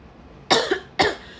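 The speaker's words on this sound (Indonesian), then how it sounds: "maaf kalau aku batuk-batuk" Two sharp, fairly loud coughs about half a second apart from a young woman on an Indonesian livestream, each a broadband burst with a short tail, separated by near silence.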